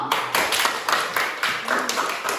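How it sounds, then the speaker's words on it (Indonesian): A grade 5 class applauds together in a series of quick, rhythmic bursts of hand clapping, close and lively, with the pattern repeating evenly for a couple of seconds. "Oke, berarti aplaus dulu."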